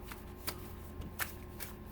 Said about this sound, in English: I'm just showing you that I am in fact shuffling the cards.